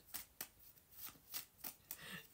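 Tarot cards shuffled for a card reading, a series of about six crisp riffling bursts at an uneven rhythm, close and fairly quiet, with no voices.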